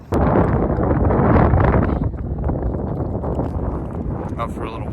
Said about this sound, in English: A little windy, but we're doing it.